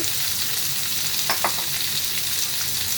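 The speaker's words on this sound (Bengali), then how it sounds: "ভালো করে নেড়ে চেড়ে এখন এর মধ্যে আমি দেবো দুটো কাঁচা লঙ্কা হলুদ গুঁড়ো" Green chillies and turmeric powder frying in a pan, a steady dense sizzle with a couple of brief stirring scrapes partway through, close and continuous with no talking.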